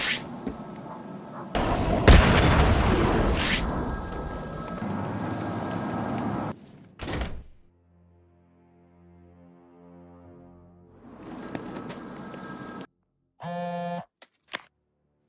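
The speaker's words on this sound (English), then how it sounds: "The noise of the phone ringing is so annoying because it's a side mission." Phone ringing in Batman: Arkham City, repeated electronic ring bursts separated by silences, mixed with booming game effects and thuds, fairly close and clear.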